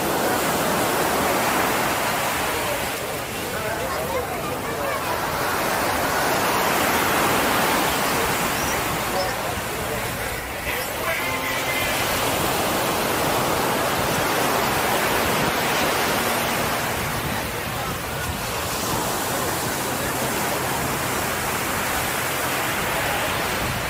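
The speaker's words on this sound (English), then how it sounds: "there's always a great breeze coming in from the ocean here" Strong ocean breeze blowing through an open beach restaurant in Puerto Vallarta, a dense, steady roar of wind that swells and eases slowly in gusts, loud and close throughout with no speech.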